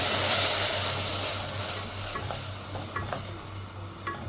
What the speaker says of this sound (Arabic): بعد كده هنحط الشرش بتاعنا اللي احنا غليناه اهو